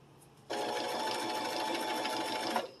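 A sewing machine runs a continuous stitch along the top side of fabric for a kitchen project, a steady loud whirring hum that starts abruptly after a quiet lead-in and runs unbroken to the end.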